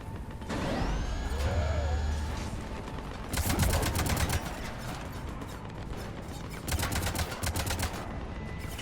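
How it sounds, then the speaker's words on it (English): Rapid automatic gunfire from sci-fi shooter Mass Effect comes in dense, loud bursts around a mechanical whir and beeping tones, with clattering volleys repeating in several waves. "you guys are still just shooting non-stop at nothing"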